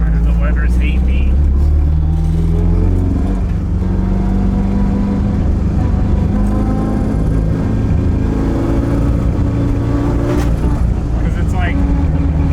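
Toyota AE86 four-cylinder on Weber carburetors revving unevenly as the throttle is worked, a loud continuous engine drone with surging swells, running under speech throughout.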